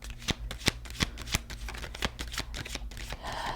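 Tarot cards being shuffled in a steady run of crisp, close riffling snaps and slaps, with a brief softer rustle at the end and no voice.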